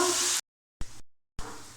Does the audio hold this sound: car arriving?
no